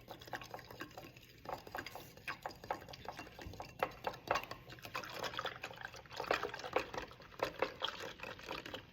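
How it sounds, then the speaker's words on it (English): A straw stirs a baking soda and soap solution in a cup, giving soft repeated swishing and light tapping against the container, quiet and close, with no talk. "And you can stir with your straw."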